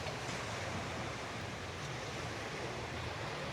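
Surf washing ashore at Serenity Bay Beach on Lookout Cay, an adults-only beach, heard as a steady, continuous wash of waves with some wind noise and no talk.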